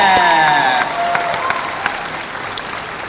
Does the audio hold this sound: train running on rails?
no